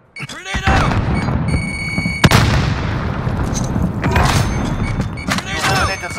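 Grenade blast in a battle royale video game with a gas zone, a loud sharp boom partway through amid ongoing gunfire-like bursts, with game voice callouts heard over it.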